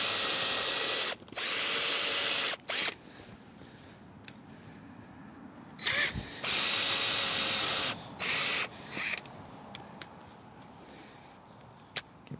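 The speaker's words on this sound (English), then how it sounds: "now the log is on its side, and we drill through to meet the hole" A power drill whines in several loud bursts, stopping and starting as it bores through a log, with quiet gaps between runs.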